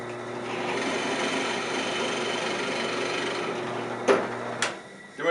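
A 7/8 inch boring bit drills into a wooden flute end cap, giving a steady, close whirring hum with grinding texture, then stopping, followed by a couple of short knocks.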